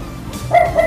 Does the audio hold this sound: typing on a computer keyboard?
no